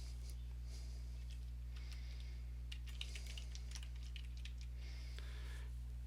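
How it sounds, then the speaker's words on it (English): Quiet clicking of fingers typing a name on a computer keyboard, in irregular short runs of keystrokes over a steady low electrical hum. "As soon as you begin typing their name"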